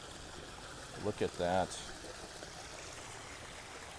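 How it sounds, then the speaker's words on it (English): A swimming pool water feature at a home in The Villages, Florida, runs with a steady, faint trickling wash throughout, briefly under a short spoken remark. "This home has an awesome water feature in that swimming pool area."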